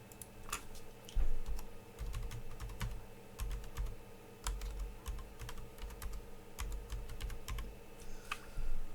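Someone types an email address on a computer keyboard, producing a steady run of close, crisp key clicks with irregular rhythm and occasional heavier strokes, with no speech over them.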